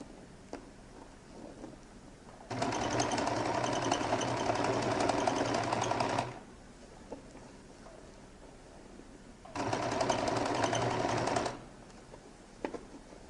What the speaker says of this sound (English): And now begin to stitch till I get to the end, or at least as close as possible to the end.